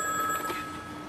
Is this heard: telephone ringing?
yes